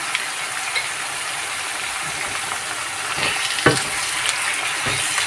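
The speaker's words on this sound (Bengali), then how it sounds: "মশলাগুলো দিয়ে কিছুক্ষণ কষিয়ে" Garlic, coriander and chili pastes fry in hot oil for hotel-style chola bhuna, giving a steady close sizzle with occasional scraping stirs of a spatula against the pan.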